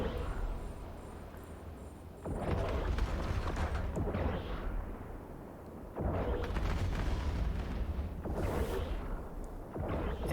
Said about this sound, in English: The artillery Thrasher is not hitting me hard, probably explosive.